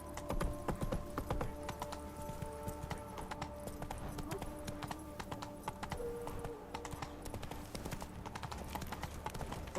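Roach, a horse in The Witcher 3, gallops with rapid, rhythmic hoofbeats that clip-clop loud and near throughout, over a low game ambience.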